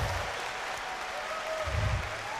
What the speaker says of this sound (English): And an applause.